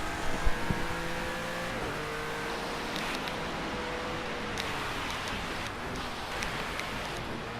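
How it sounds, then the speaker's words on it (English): A car in a video game accelerates through a puddle. Its engine rises and then changes pitch under a constant splashing, rain-like wash of water, with scattered pops and splatters. "what can truly happen if you decide to accelerate in a puddle"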